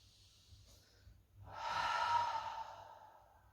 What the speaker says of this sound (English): Take a big inhale and exhale.